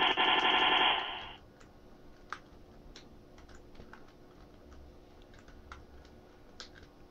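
Gunfire in the retro shooter game Wolfenstein 3D: a loud sustained burst of rapid shots for about a second, followed by sparse faint clicking single shots.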